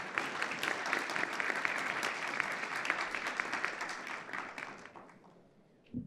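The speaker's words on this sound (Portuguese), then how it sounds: "Uma salva de palmas." Audience applause at a financial investment conference fills the room steadily with dense clapping, then thins out and fades near the end with a few last claps.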